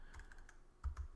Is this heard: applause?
no